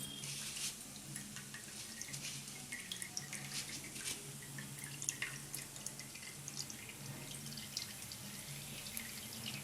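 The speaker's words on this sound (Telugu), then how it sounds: "ఇప్పుడు ఇంకా కొబ్బరి నూనె రెడీ అయ్యింది దీన్ని మనం ఫిల్టర్ చేసుకుందాం" Homemade coconut oil, made from three coconuts, filtering through with faint, irregular drips and soft liquid trickles, quiet and close with no talk.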